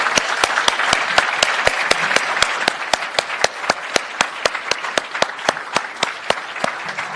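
An audience applauds students at a school merit ceremony. Warm, steady clapping is punctuated by a few sharp, evenly spaced claps close to the microphone and thins out toward the end.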